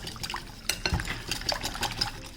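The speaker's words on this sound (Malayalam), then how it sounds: "നമുക്കൊരു വിസ്ക് കൊണ്ട് വീണ്ടും ഒന്ന് മിക്സ് ചെയ്യാം." A whisk stirring dried oregano and parsley leaves into a mixture: soft, close scraping and clinking against a bowl in quick, irregular strokes, with no talk.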